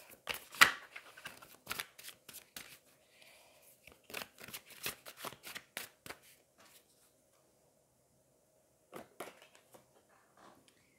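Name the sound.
tarot cards being shuffled and drawn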